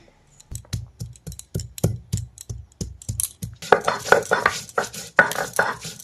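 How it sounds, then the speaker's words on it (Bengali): Fresh ginger ground on a traditional grinding stone in a Sundarban home kitchen: a regular series of close, hard knocking and scraping strokes, about two per second, turning denser and grittier toward the end. "একটু জিরে বাটবো আর একটু আদা বাটবো আদা বেটে নিচ্ছি প্রথমে"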